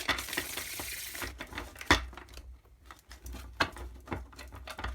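Tarot cards being shuffled by hand, a dense flurry of riffling and flicking paper sounds at first, then softer intermittent slaps and shuffles, close up with no talking.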